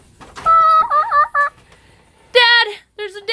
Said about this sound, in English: I hear that crazy chicken.